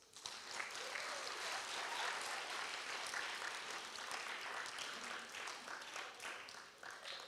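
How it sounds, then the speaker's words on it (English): An audience at a devotional event for National Easwaramma Day gives a warm round of applause, dense, steady clapping that fills the whole stretch at a moderate distance. "Let's show our appreciation with a warm round of applause."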